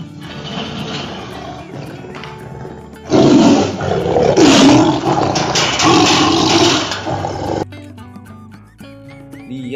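A loud, sustained tiger roar, likely from a toy, rises abruptly and rumbles for several seconds before cutting off, set against a busier background of lighter noises.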